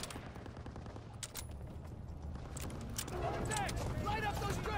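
Supporting gunfire rattles in a Call of Duty WWII battle, steady bursts of shots and clatter running throughout at moderate distance, with shouted voices and chirpy effects layered over the final seconds.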